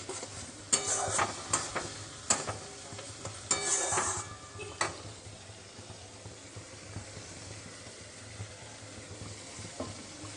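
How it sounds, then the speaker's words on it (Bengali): Potatoes are stirred into a katla fish masala in a pan: a few sharp spoon-against-pan clinks and scrapes over a soft sizzle, busy at first and then settling to a quiet, steady fry. "আলু দিয়ে একটু নাড়াচাড়া করলাম"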